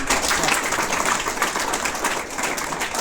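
Loud, sustained applause from a school audience at an inter college event, steady dense clapping throughout with no speech over it.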